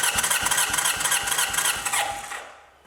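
A Honda CB750K engine cranks over on the starter during a compression test with the throttle held open, a rapid rhythmic churning with regular pulses that winds down and stops near the end.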